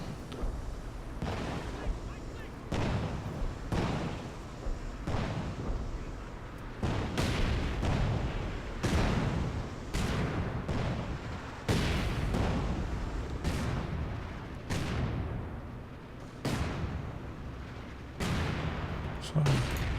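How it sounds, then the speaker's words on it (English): Artillery barrage in the video game Company of Heroes 2: about a dozen loud, close shell explosions land at irregular intervals, each a heavy boom with a rumbling tail, over continuous battle noise. "Artillery barrage starting as ordered."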